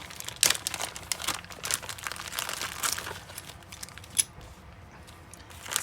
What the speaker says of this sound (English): Let's just go ahead and grab these scissors and see what we have.